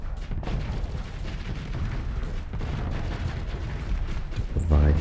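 Volley cannons firing in the space combat game Starsector, a dense run of heavy booming shots and rumbling impacts that continues steadily throughout, with a louder low burst near the end.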